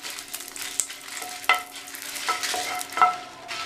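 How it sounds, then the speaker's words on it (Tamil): Dried red chillies fried in a little oil in a pan, a soft crackling sizzle with a few sharp clicks of a spatula against the metal, close and fairly quiet. "அதே பேன்லேயே கொஞ்சமாக எண்ணெய் விட்டு ஒரு 10 காஞ்ச மிளகாய் பழம் எடுத்திருக்கேன். அதை சேர்த்து நல்லா மொறுன்னு வர வரைக்கும் கருகிராமல் வறுத்துக்கணும்."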